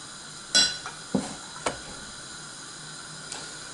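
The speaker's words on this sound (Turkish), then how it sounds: "Ve bunu bir karıştıracağım ve bırakacağım" A spoon stirs butter melting in a pot while it is cooked down into clarified butter, giving a few sparse, quiet clinks and scrapes against the metal with long still pauses between them.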